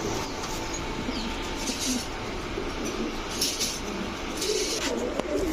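Young chocolate racer and grizzle pigeons in a loft: soft, low cooing murmurs and faint wing flutters under a constant noisy background, with no voices.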